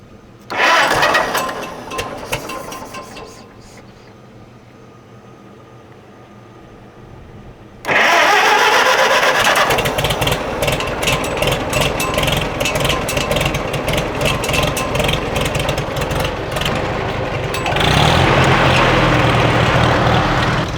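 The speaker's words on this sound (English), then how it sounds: "apparently the alternator on the Farmall doesn't work, so got to jump start it" A Farmall tractor with a faulty alternator cranks on a jump start, coughs, then catches and settles into a loud, steady rough idle up close, rising briefly in revs near the end.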